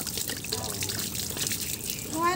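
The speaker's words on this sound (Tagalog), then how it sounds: "Pero ang lakas ng tubig." Strong water flowing at a rural spot in the Philippines, a steady broadband rush and splash that stays loud throughout without pause.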